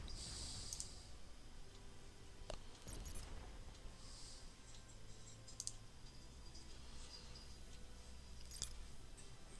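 Computer mouse clicks during a naval strategy game on Xbox One, several sharp isolated clicks spread out over quiet room tone with no talking.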